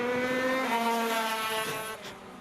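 KZ2 shifter racing karts screaming past on track during a 2019 NSW KZ2 Super Series final, a loud sustained high-revving two-stroke engine drone with rising pitch that fades slightly toward the end.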